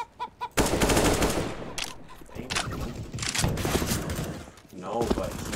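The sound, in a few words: AK rifle gunfire in video game CS:GO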